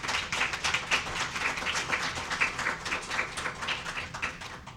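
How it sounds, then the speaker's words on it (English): An audience at a health care forum applauds an expert panel with steady, fairly close hand clapping that lasts throughout, with no talk over it. "Let's give them a round of applause"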